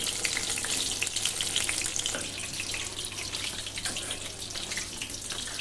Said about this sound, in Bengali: একটা একটা করে আমি বড়াগুলো তেলের মধ্যে দিতে থাকছি।